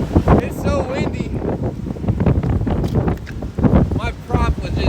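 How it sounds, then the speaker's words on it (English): Strong gusting wind buffets the microphone at a lake boat launch, with heavy roaring rumble and bursts rising and falling while people talk through it. "It's so windy."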